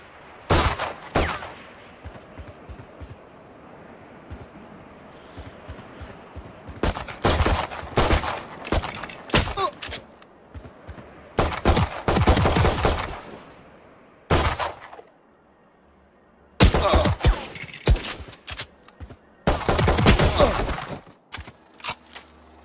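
Rifle gunfire at practice targets and bots in the tactical shooter VALORANT, in repeated loud bursts and single shots separated by short quiet gaps over a low ambient hum.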